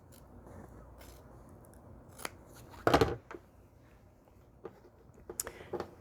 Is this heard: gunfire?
no